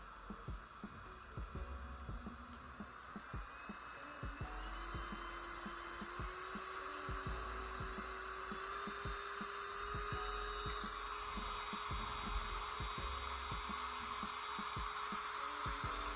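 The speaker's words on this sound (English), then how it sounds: "I'm going to continue to increase the speed of the drill all the way to the max" A high-pitched motor whine rises steadily in pitch as a small rechargeable electric nail drill speeds up to 3,500 RPM, with a low rhythmic throbbing underneath, fairly quiet and continuous.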